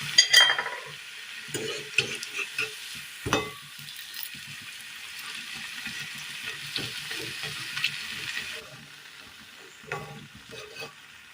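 Soft, steady sizzling of Kerala snacks deep frying in hot oil, with occasional clinks and stirring sounds from a pan.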